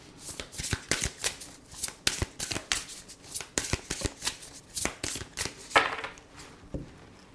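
Oracle cards for a love reading are shuffled and cut by hand, giving a dense series of crisp, close riffling slaps and snaps in an irregular rhythm with no talking.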